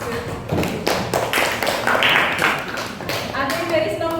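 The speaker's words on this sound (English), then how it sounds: "Okay, give applause." A classroom of high school students claps together in sustained applause for several seconds, with voices talking over the clapping.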